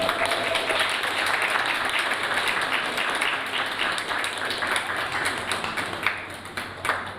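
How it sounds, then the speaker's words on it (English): An audience claps in a sustained round of applause at a university students' union election results night, a dense steady patter at moderate level with faint scattered taps toward the end. "So one final applause for Dan."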